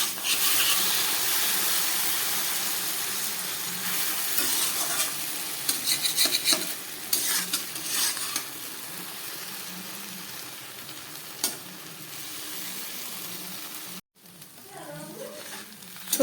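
Taro stolons cook over low gas in a pan with mustard and poppy seed paste, giving a steady, close sizzle and hiss with scattered scrapes and clinks of stirring throughout.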